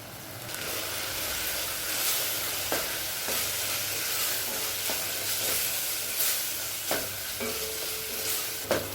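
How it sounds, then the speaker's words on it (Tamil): Chili powder masala sautéed with salt, turmeric and coriander powder in a pan, a steady close sizzle and hiss with periodic scraping stirs of the spoon. "இப்போ மிளகாத்தூள் வாசனை போக 1 நிமிஷம் வரைக்கும் நல்லா வதக்கியாச்சுங்க"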